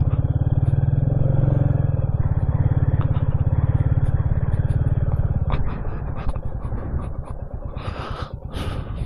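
A Royal Enfield Classic 350 thumps steadily up a grassy hill, its low, even single-cylinder beat loud at first, then growing rougher and fainter, with gusts of wind noise toward the end.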